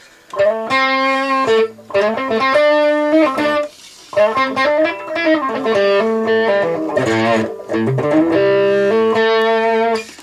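An overdriven electric guitar through a Boss OD-200, bridge pickup with the tone rolled down, plays a melodic phrase with a warm, rounded, dark tone, notes sustaining with light reverb and brief pauses between runs.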